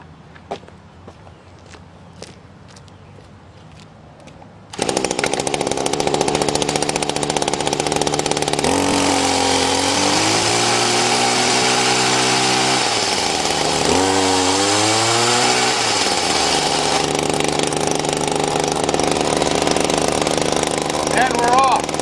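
A weedeater engine on a homemade motorized bicycle idles quietly, then bursts into a loud, close, buzzing roar and revs repeatedly, its pitch rising and falling in several surges before holding a steady high drone.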